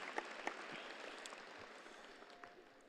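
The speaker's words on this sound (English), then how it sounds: "I want to give a big round of applause to our valedictorians and those wonderful speeches" Faint, distant applause from a high school graduation audience, a few sharper claps early on, then a soft steady patter that thins toward the end.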